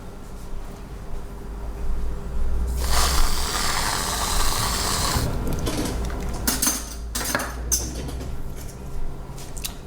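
Kitchen drawer rummaging as spoons are fetched, with a rushing burst of sliding and rattling, then scattered close metallic clinks and clatters of cutlery, no talking.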